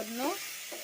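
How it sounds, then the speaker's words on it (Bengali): A pan of cauliflower cooking with fish sizzles steadily while it is briefly stirred. The short hiss is close and continuous, with a faint voice-like tone over it. "একটু নাড়ে নিলাম।"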